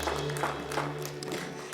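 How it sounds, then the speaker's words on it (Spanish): A church congregation applauding, a short dense wash of clapping with an organ or keyboard note sustained underneath. "Puedes dar un aplauso al Señor en este día"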